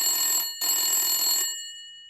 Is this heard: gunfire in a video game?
no